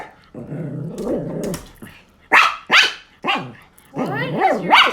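A dog growls and barks at a cicada outdoors: a sustained low growl, then several sharp close barks and a rising whine-like bark, loud and alone without talk.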